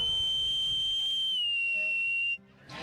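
A man in a pirate costume whistles one clear, high, sustained note that dips slightly in pitch midway, then cuts off abruptly near the end over faint background noise.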